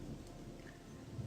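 Steady rain falls at night in the video game Gothic II, a constant dense hiss with low rumble and no other distinct sounds.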